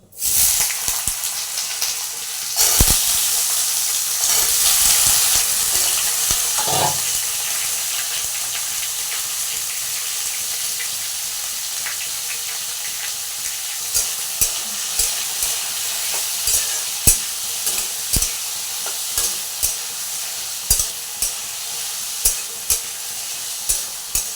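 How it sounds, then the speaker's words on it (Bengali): Potatoes frying in hot oil, a steady loud sizzle and hiss that continues throughout, with occasional clinks and scrapes of stirring growing more frequent toward the end. "তো এখানে আমি আলুগুলোকে আগে ভেজে নিই"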